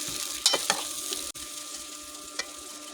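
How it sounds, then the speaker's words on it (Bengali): A paste of ground ginger, garlic, cumin and dried chilli, added with water, fries in a pan with a steady close sizzle and a few sharp spoon clinks and scrapes as it is stirred. "এখন আমি মশলাটা কষিয়ে নেব"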